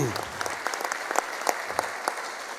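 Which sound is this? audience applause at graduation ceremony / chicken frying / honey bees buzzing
audience applause at graduation ceremony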